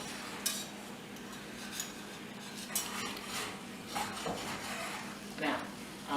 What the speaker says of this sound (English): Now, I'm pushing the pan around.